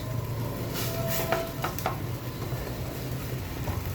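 Ginger frying in oil in a pan for a Barishal-style country chicken curry, a soft continuous sizzle with a few faint clinks from utensils, no talking.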